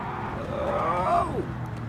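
A 1969 Camaro Z28 engine in Gran Turismo 7 revs through a sweeping turn, its pitch climbing and then dropping back in a smooth swell that stands alone without talk.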